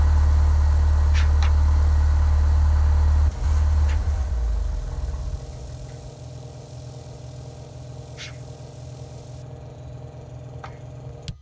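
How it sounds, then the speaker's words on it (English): Cessna 172 engine in Flight Simulator X: a loud, deep idling drone that drops and settles into a steadier, quieter run, with a few faint clicks over it. "And I accidentally started the engine, didn't I? Yeah, I did."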